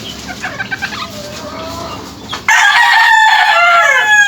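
A rooster at a gamefowl farm crows loudly and close by, a long wavering cock-a-doodle-doo that follows softer clucking and other fowl noises in the background.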